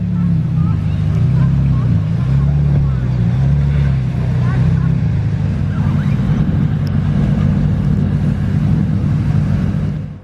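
Ferrari Roma V8 engine running loud and steady after start-up, a deep continuous rumble with slight wavering in pitch, close by with background chatter.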